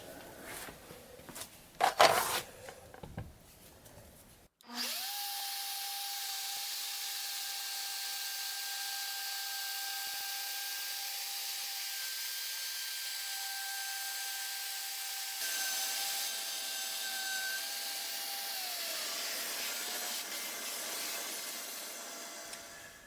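Router cutting a wooden tray in shallow increments: after a few knocks and handling clatter, a steady high whine with hissing cutting noise runs continuously, its pitch dipping slightly partway through.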